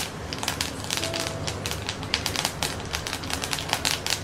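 Mustard seeds spluttering in hot oil in a home kitchen pan, a dense, steady stream of sharp crackling pops and snaps running throughout at close range, with no talking.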